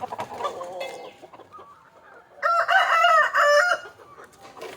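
Native country hens cluck softly at first, then a rooster crows loudly nearby in one long, strained call before the clucking resumes.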